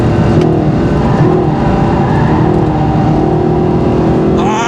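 A Mercedes SLS AMG engine is driven hard on a race track in Abu Dhabi, revving and shifting continuously at high, steady loudness with a brief rising surge near the end.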